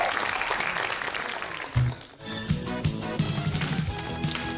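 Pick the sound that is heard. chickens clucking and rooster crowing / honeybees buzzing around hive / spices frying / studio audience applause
studio audience applause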